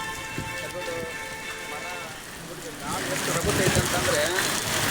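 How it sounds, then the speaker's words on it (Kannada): Heavy rain driven by strong wind during a storm, with water pooling on a village road; a steady broadband hiss of rain grows louder and denser partway through, with bursts of gusting wind and what sounds like voices underneath. "ಗಾಳಿ ಜೋರಾಗಿ ಮಳೆ ಆಗ್ತಾ ಇರುವುದರಿಂದ ರಸ್ತೆಯಲ್ಲಿಯೇ ನೀರು ನಿಂತುಕೊಂಡಿದೆ."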